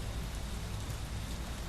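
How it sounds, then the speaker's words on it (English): Steady rain falls as a soft, even hiss of drops on surfaces, faint and continuous with no breaks or other sounds. "she feels the raindrops on her skin"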